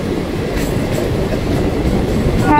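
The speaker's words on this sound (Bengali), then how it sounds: "দেখুন আরেকটা ট্রেন ঢুকছে, এটাও কিন্তু শিয়ালদার ট্রেন" A Sealdah-bound suburban train pulls into a station near Majerhat in Kolkata with a close, loud, continuous rumble of wheels and carriages and no voices.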